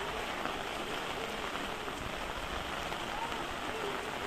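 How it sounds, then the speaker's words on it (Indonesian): Steady rain falls in a traditional Balinese village as a constant dense hiss of drops on surfaces, even and fairly close throughout, with faint voices underneath. "dengan hujan yang semakin deras"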